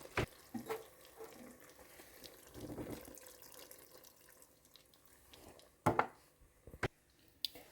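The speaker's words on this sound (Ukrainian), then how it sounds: "і заливаємо водою." Water splashes and trickles into a pot of rice and meat for plov at close range, with a few sharper clinks and drips standing out near the end.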